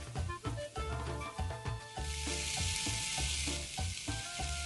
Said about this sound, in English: Set your grill on a medium-high heat. Add your carne asada and you're going to cook it approximately 5 to 7 minutes on each side.